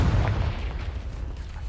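Confringo blasting curse exploding in Hogwarts Legacy, a deep booming blast with a low rumbling tail that fades over under two seconds, heard alone with no talking.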